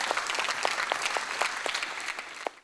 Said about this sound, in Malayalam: വലിയൊരു കൈയടി നമുക്ക് എല്ലാവർക്കും ചേർന്ന് കൊടുക്കാം